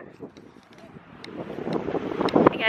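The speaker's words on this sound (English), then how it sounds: "It's a little windy out here." Wind gusts buffet the microphone in low rumbling waves, with faint clicks and scattered noises mixed in.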